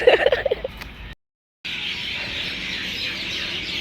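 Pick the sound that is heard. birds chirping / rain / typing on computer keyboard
birds chirping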